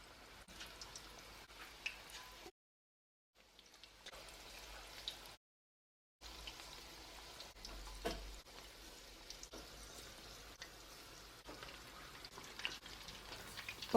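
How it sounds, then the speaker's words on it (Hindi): Chicken pakoras fry in hot oil over a medium flame, and a soft, steady sizzle and crackle continues throughout, broken by two brief silent gaps. "तेल हमारा गर्म हो चुका है और इसमें हम एक एक करके हमारे पकोड़े डालेंगे फ्राई होने के लिए।"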